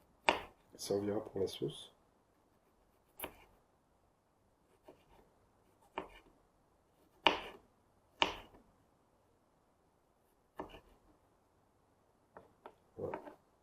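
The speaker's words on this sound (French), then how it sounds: "Découpez le gingembre en tout petits morceaux." Ginger being chopped into small pieces with a knife on a board, sparse sharp taps spaced a second or two apart in a quiet room, with a brief spoken line near the start.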